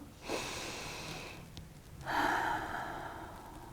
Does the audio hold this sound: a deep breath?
yes